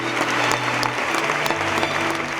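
Festival audience giving an ovation after a premiere screening of a Gavras film about the Greek crisis: loud, sustained crowd clapping with crisp individual claps over a low murmur.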